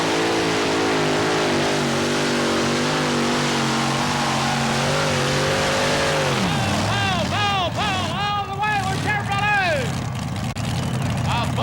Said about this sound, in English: Two-wheel drive, super modified, pulling one of the top classes in the Redman TNT All-American Pulling Series.